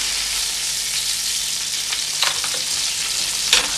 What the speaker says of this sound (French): moules ont rissolé pendant 5 minutes à peu près